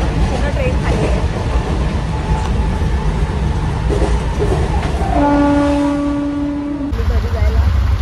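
A crowded Mumbai suburban local train near Dombivli rolls along with a loud, steady rumble and wind roar, and a sustained horn-like tone sounds for about two seconds near the end.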